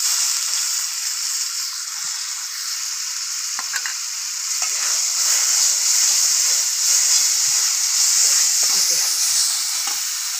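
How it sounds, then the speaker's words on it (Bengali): Ginger garlic paste frying with reddish-browned onions, a loud continuous hiss and sizzle close up, with light scraping of a spoon stirring through the pan. "এবার এর মধ্যে আমি আদা রসুন বাটা দিয়ে দেবো।"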